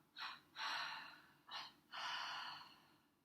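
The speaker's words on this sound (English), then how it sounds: "we do what's called a double inhale, and we tense the body, and then we release the tension as we double exhale" One person does a breathing exercise: two quick sharp inhales followed by a longer exhale, then the same pattern again, close and clear with no talking.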